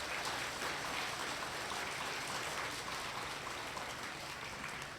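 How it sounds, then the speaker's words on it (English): Applause from the audience at an elementary school awards ceremony, a dense, hissing wash of many hands clapping at a moderate distance, steady throughout and slowly fading near the end, with no voices on top. "So please give them a big round of applause."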